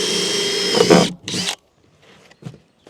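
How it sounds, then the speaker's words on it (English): A power drill whines loudly in two grinding bursts drilling into concrete, then cuts off, leaving a few faint knocks and scrapes. "I need to drill some holes in what I think is concrete"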